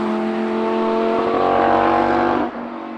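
Audi R8 V10 engine revving hard on a public road through a forest, a loud, steady high-pitched howl that climbs, then drops sharply as the throttle lifts near the end.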